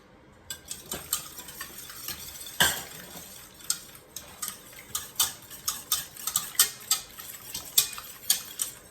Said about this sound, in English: And mix it.